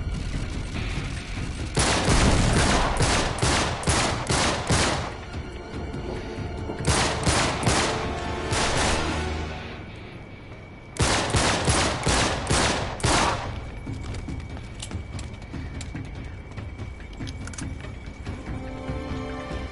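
Video game gunfire in Uncharted, the Nathan Drake Collection, comes as loud rapid automatic bursts with several sustained volleys and pauses between them. Lighter scattered shots and game ambience follow.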